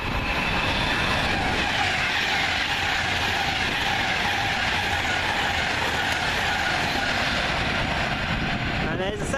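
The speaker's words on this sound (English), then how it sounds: "And there's a southbound Pendolino heading to Euston." A southbound Pendolino heading to Euston thunders through Cheddington, a loud sustained rush of wheels and rail clatter with a rising whine near the end, as a voice speaks underneath.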